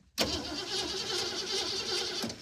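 A rusted, long-neglected 1969 Ford Mustang engine cranks with a sudden onset, holding a steady, rough mechanical drone close by for about two seconds before cutting off.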